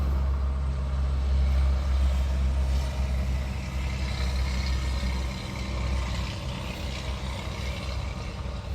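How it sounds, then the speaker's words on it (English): Diesel dump trucks labor uphill on a New Jersey street, a heavy low engine rumble that swells and slowly fades, steady and fairly distant with road noise. "Diesel dump trucks going uphill"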